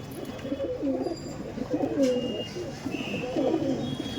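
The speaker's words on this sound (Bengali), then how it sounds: "এটা নর আর এটা হচ্ছে মাদা পায়রা" Male and female pigeons coo close by in soft, repeated rolling phrases, three clear bouts over a quiet room.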